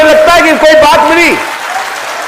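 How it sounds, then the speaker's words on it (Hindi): Audience at a live religious darbar gathering clapping together in a broad wash of applause, with voices carrying over it through the first half before the clapping continues on its own. "हाथ उठा के ताली बजाइए"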